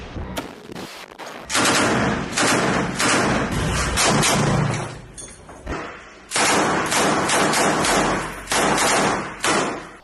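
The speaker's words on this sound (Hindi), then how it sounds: "यहां पर अल-कुद्स के लड़ाकों ने एकाएक मशीन गन से आईडीएफ के जवानों पर धावा बोल दिया" Machine gun fire in long rapid bursts separated by short gaps, loud and harsh, from combat footage of an attack in Rafah.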